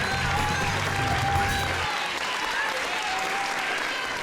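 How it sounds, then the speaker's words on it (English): An audience applauds and cheers at a graduation ceremony for an EMS academy. Dense, steady clapping fills the room with scattered whistles and shouts, and a low music bed underneath fades out partway through. "Family members in the audience cheering them on."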